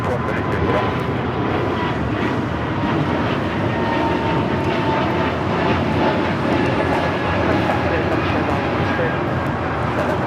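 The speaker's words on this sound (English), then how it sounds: "That is Air Canada 778 taking off to Montreal on the A220-300" Air Canada A220-300 jet taking off at LAX, a steady broad engine roar holding loud and continuous throughout with a faint voice underneath.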